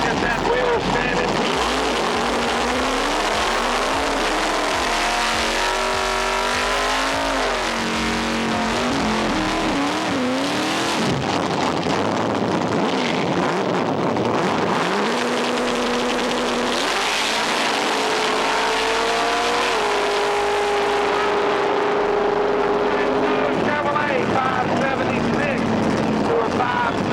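A 1986 LX outlaw drag race car roars down the strip, its engine revving hard through rising and falling pitch sweeps with crowd and track noise around it, loud and close for the whole run.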